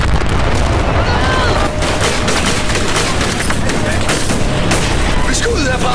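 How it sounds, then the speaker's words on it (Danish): Gunfire in a war film set amid Taliban fighting in Afghanistan: dense, loud bursts of rapid shots and booms that run continuously, with shouted voices mixed in. "Skud herfra!"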